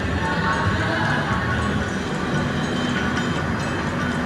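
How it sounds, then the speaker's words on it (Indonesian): Train at Ketapang station platform, Banyuwangi, on the KA Blambangan Ekspres route: a continuous loud rumble of rolling rail cars with faint clatter, steady throughout and without speech. "sekarang saya udah boarding dan udah masuk di dalam peron stasiun Ketapang"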